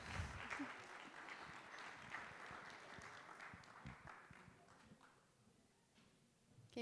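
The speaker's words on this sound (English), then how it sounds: "give him a round of applause" A candidate forum audience gives a round of applause for a high school helper joining the Q&A, with moderate indoor clapping that holds steady and then fades toward the end, no voices over it.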